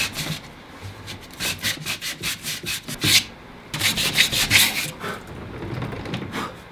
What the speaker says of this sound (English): I'm just gonna take my 80 grit sandpaper and smooth that out